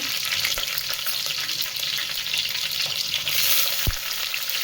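Oil tempering with mustard seeds and red chillies for pepper rasam, crackling and sizzling steadily in a hot pan up close, with faint stirring knocks.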